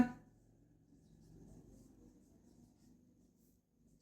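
Pen scratching on paper while a divisibility rule for a math lesson is written out, a soft, steady scribble that fades toward the end, with no talking.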